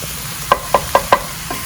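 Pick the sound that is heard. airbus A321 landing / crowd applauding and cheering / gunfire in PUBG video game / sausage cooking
sausage cooking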